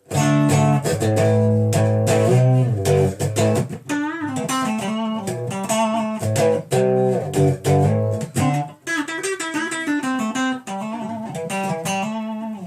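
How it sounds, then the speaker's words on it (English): Electric guitar with two humbucker pickups wired in series out of phase, giving a thin, nasal tone, playing a busy run of chords and single notes with no voices. "So this is the sound of both pickups in series out of phase."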